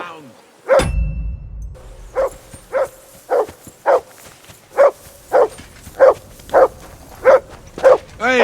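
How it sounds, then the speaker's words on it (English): A dog in the medieval game Kingdom Come: Deliverance II barks loudly and close in a steady series of about a dozen evenly spaced barks, after an opening thud at the start. "Hey, call off that dog and then we can talk."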